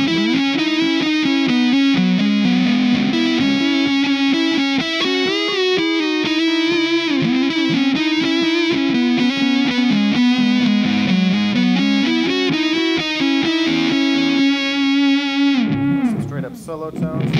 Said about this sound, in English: I want to turn on a Tortuga Yeti for some distortion here